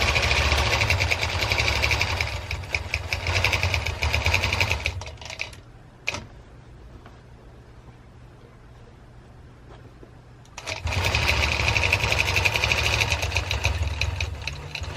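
A longarm quilting machine stitching binding runs with a steady rapid mechanical chatter, pauses for several seconds with only a faint hum and a click, then resumes stitching at the same loud, even pace.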